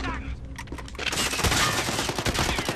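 Rapid automatic gunfire from a Modern Warfare video game match: a few scattered shots, then a dense, loud stream of overlapping bursts from about one second onward, with no clear pauses.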